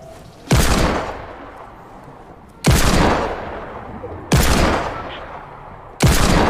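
Four loud, sharp gunshot blasts from a weapon in the video game Fortnite, each followed by a decaying tail, fired at roughly one-and-a-half to two-second intervals with no other sound between.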